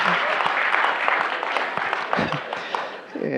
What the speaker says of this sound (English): Yeah, you guys are clapping now.